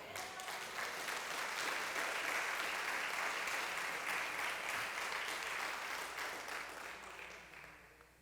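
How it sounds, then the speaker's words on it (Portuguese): A church congregation applauds in praise during a service, a dense, sustained wash of clapping from a large crowd that holds steady for several seconds before tapering off near the end. "Aplauda ao Senhor."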